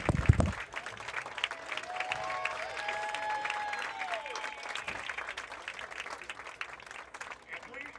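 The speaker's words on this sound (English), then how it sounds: "Let's give him a big round of applause" A crowd applauds at a varsity lacrosse game, AC Flora versus Christ Church. The clapping is steady and moderately distant under ambient crowd noise, with a brief loud bump at the start.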